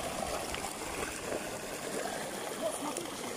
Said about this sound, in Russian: Вот, дамбу прорвало, смотрите, что творится, куда идет.